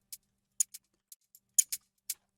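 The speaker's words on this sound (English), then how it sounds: "These shakers originally sounded a bit more loose, but I did decide to make them a bit more snappy using this beat warp mode" Crisp, snappy shaker hits in a downtempo production, tightened to short one-shot transients: eight quick, bright ticks spaced irregularly across the bar, dry and close with silence between them.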